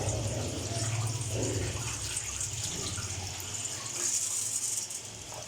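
Tap water runs steadily into a vessel of rice set to soak for Afghani pulao, a soft continuous splashing hiss at moderate distance, unbroken for several seconds with no talk.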